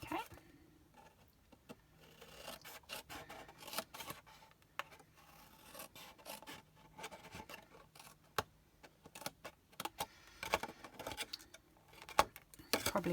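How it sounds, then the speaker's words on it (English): Scissors snipping notches into very thick paper during a Stampin' Up! autumn/winter papercraft project, a run of short, sharp close clicks and crunches scattered irregularly across the clip. "Probably could do with using my bigger scissors for this because it's, like I said, it's very thick paper"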